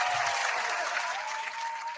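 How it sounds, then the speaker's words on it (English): Steady applause from a crowd fills the whole span, a dense continuous patter of many hands clapping at even loudness, with no voices over it. "Round of applause for that."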